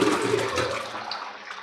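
Water poured into a copper pot, a steady gushing splash that fills the space and gradually thins out over under two seconds, heard alone with no talking.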